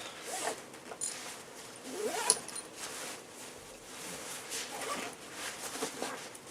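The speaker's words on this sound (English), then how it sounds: "So let me just zip that back up." Zipper on a rucksack compartment being drawn closed, several quick rasping pulls in sequence at close range, fairly quiet, with no talking.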